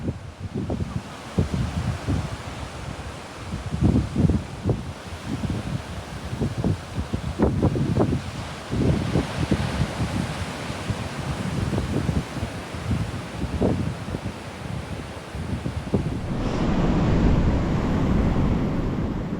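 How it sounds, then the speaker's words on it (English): Big Pacific surf crashes on a sandy beach with no rocks, waves rolling in as steady loud roaring washes mixed with gusty wind noise buffeting the microphone. "You could just sit here and listen to these waves crash all day long."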